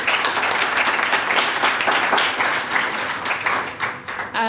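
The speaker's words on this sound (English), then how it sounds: "we can all give them again another round of applause" Loud, close, sustained clapping from an audience at a community service excellence awards ceremony, another round for the three winners, dense and continuous and fading out near the end.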